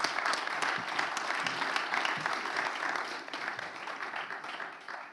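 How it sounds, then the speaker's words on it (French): An audience at a regional awards ceremony applauds steadily and densely for several seconds, then tapers slightly at the end. "Merci messieurs, on peut vous applaudir tous les deux."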